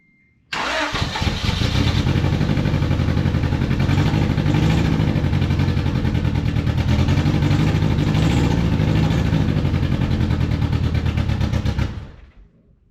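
An engine damaged by old ethanol fuel fires up and runs loud and rough for about eleven seconds, sputtering unevenly before cutting out abruptly.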